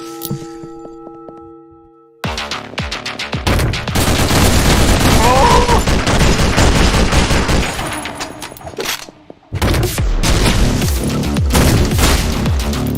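Loud video game gunfire from an oversized, wild gun: a dense, booming barrage of rapid shots. A brief pause breaks it before the heavy firing resumes near the end.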